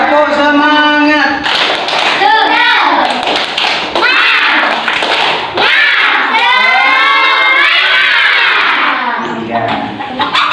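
Classroom of young students doing a rhythmic spirit clap, patterned group clapping mixed with children's shouted chant, loud and close.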